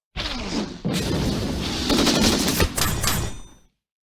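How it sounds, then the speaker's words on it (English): Battleship bombardment in the Axis and Allies 1942 Online strategy game: loud, close booming blasts with crackling bursts, a sharp onset followed by a sustained rumbling barrage that fades out. "Okay, battleship bombardment."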